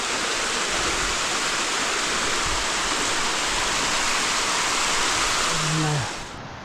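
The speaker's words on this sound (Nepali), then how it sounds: "माथि गुफातिरबाट पानी आयो क्या त्यो धाराबाट" A strong, steady gush of water runs from a spout below a Himalayan mountain cave, loud and close, then drops off sharply near the end, with a brief low voice just before it fades.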